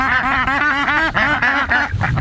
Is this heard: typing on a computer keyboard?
no